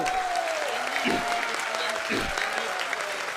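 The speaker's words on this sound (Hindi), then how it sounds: "समर्थन में एक बार जोरदार ताली बजा दो।" An audience at a Jain religious gathering about the Sammed Shikhar movement claps loudly and steadily in support, a dense wash of applause throughout, with a voice briefly sounding over it.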